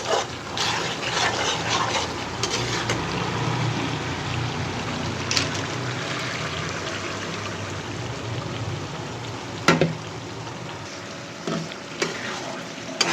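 Chicken skin and wings sizzle and fry in a nonstick pot with lentils and spices, a steady crackling hiss throughout with occasional sharp clinks of a spoon stirring against the pot.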